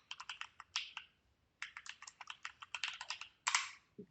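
Close, crisp keystrokes on a computer keyboard come in quick uneven runs of clicks, with a brief pause in the middle and no talk.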